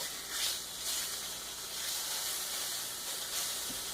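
Spam slices and onions fry in a pan with a steady, bright sizzle and hiss, close and continuous, with no talking.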